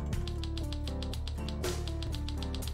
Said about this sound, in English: like an old school typewriter